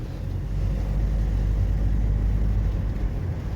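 A car drives through small French villages, its engine and tyres making a steady, close, low rumble inside the cabin with no talking.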